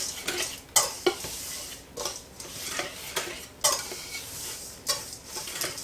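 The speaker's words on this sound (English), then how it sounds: "we are just going to whisk those together" A whisk stirs dry muffin ingredients (flour with ginger, nutmeg and salt) in a bowl, making repeated brisk scraping strokes and sharp clinks against the bowl, close and clear with no talking.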